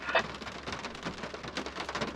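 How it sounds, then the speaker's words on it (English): Heavy rain falling outside, a dense, steady patter of drops with no voices, close and moderately loud throughout. "It's raining, it's proper raining heavy now here."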